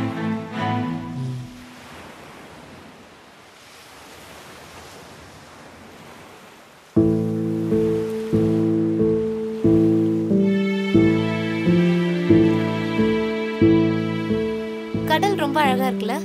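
Ocean waves wash onto a sea shore as a soft, steady broadband surf hiss for about seven seconds, then loud rhythmic music takes over.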